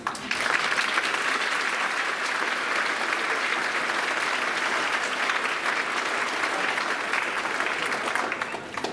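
Sustained audience applause at a school spring band concert, honoring student artists: a dense, steady wash of many hands clapping at full strength for the whole stretch.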